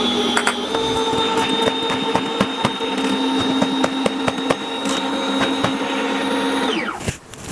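Coffee grinder built into a Homtone espresso machine grinding stale grounds, a loud, steady motor whir with a constant hum and scattered crackling ticks for about seven seconds, then a quick spin-down as it shuts off.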